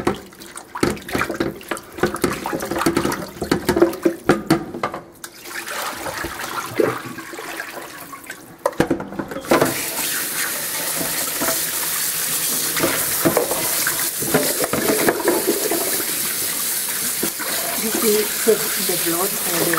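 Raw beef feet being rinsed under a running tap while making Norteño-style menudo, a steady rush of water splashing close by, heavier and more continuous in the second half.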